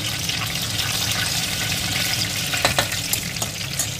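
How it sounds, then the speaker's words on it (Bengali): Cinnamon sticks frying in white oil in a pan, a continuous close sizzle with a few scraping stirs and light clinks standing out near the end, no voices. "দারচিনিটা একটু ভালোভাবে তেলের মধ্যে নেড়ে চেড়ে নেব।"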